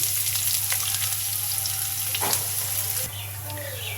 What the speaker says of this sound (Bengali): আমি তেল দিয়েছি প্যানে, আমি পেঁয়াজ দিয়ে দিচ্ছি